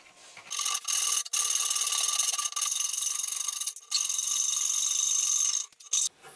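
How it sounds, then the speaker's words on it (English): Chisel pared along dovetail marks in bamboo for a blanket chest, heard as long, close, harsh scraping strokes in several bursts separated by brief pauses. "I actually have to go back in with a chisel to refine them."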